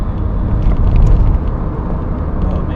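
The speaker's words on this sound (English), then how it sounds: "We got a lot of road noise because we are running for just about all tires." A Toyota Corolla cruising on all-season tires fills the cabin with loud, steady low-frequency road rumble and tire roar, heard from inside the car with no talk.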